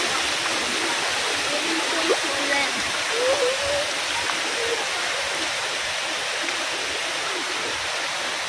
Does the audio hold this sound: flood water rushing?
yes